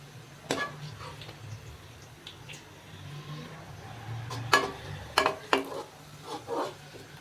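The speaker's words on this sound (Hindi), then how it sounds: "प्याज को हम गोल्डन ब्राउन होने तक अच्छी तरह फ्राई करेंगे।" Onions frying in oil until golden brown for chicken biryani, a faint steady sizzle broken by several sharp stirring scrapes and clinks of a spoon against the pan.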